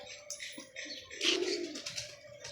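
Sialkoti pigeons coo softly at close range, low murmuring coos mixed with a few faint chirps over quiet background noise for a couple of seconds, with no voices.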